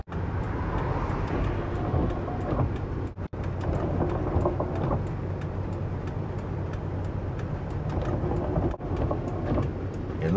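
A train rolls past a road crossing in a long, steady rumble with scattered rattles and clanks, loud and close throughout, broken briefly by a couple of sharp knocks.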